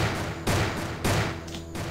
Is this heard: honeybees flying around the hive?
no